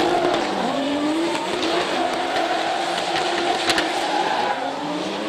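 Toyota Supra and BMW E30 launching a drift run at a French drift championship event, engines roaring with tire squeal and skidding rising over a steady, fairly distant car noise, no speech.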